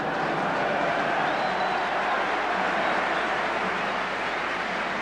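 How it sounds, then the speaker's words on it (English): A football crowd at a 1981 Villa versus Southampton match applauds as the teams come out after half-time, a steady, dense wash of clapping and murmur spread evenly throughout. "The crowd applauding the teams out after the half-time interval"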